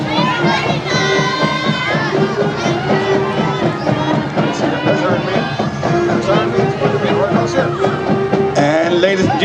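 A crowd at a hometown Christmas parade awaiting Santa's arrival fills the scene with loud, continuous cheering and children shouting, dense and close, with voices rising throughout.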